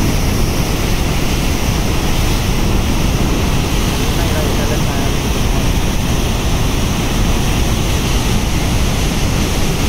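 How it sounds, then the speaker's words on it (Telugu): Water rushes through the open gates of Mylavaram dam, a loud, continuous roar of churning flow with steady broadband noise and wind buffeting the microphone. "అక్కడ వాటర్ ఫోర్స్ అయితే మామూలుగా రావడం లేదు చూడండి"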